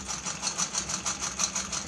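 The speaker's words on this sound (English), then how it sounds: "You guys are witnessing me treadle here." A 1904 Singer 27-4 treadle sewing machine stitches steadily, its even rhythmic whir and clatter pulsing about five times a second, loud and close with no voices.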